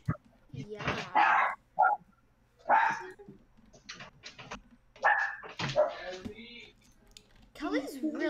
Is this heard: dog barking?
yes